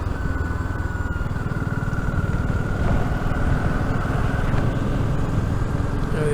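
A BSA Goldstar 650 motorcycle is ridden on a loop past a castle, its engine giving a steady, throbbing drone with a dense low pulse and a wind-roughened rush throughout.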